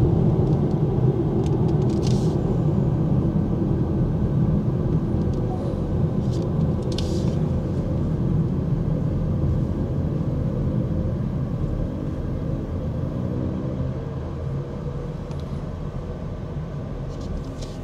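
A 2025 BMW X3 accelerating on a test drive in Malaysia, heard from inside the car as a steady, low engine and road rumble that fades slightly toward the end, with faint clicks over it.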